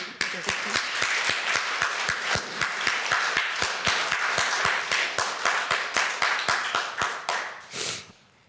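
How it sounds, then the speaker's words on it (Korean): Church congregation clapping for a deaconess, a fairly close, rhythmic run of unison claps that holds steady for several seconds, then fades and ends with a short rustling burst. "우리 권사님께 큰 박수."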